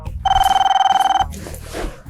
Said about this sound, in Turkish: Aa, bir saniye telefonum çalıyor.